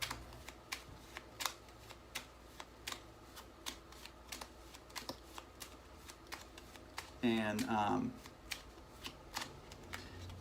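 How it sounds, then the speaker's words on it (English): Rapid crisp riffling of playing cards in repeated short bursts, close up, with a brief spoken word partway through. "it mimics the overhand false shuffle"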